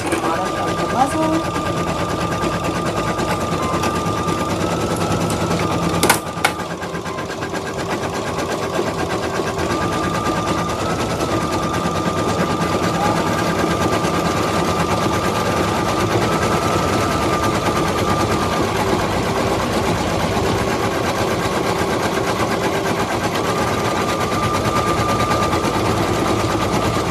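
An embroidery machine stitches the muzzle of a felt giraffe mask with a fast, steady mechanical chatter that runs unbroken and loud, with one brief sharp knock early on.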